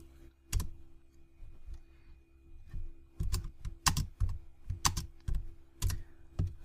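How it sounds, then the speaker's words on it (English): Keystrokes on a computer keyboard while typing a command into a Linux terminal, a few sparse clicks followed by quicker clustered taps, close and clear with no talking. "To check if Python is working, type Python 3."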